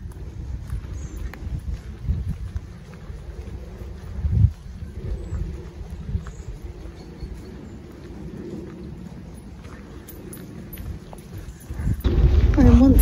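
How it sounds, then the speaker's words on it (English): Heavy rain falling during a walk with dogs, a dense continuous patter with low rumbling gusts throughout, growing louder and harsher toward the end. "So it started out okay with just a bit of drizzle, but it got a lot worse."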